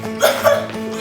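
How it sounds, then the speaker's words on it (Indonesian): A person performs an exaggerated, theatrical cough, two short loud voiced bursts in quick succession, close to the microphone. "Yang pertama, batuk lebay."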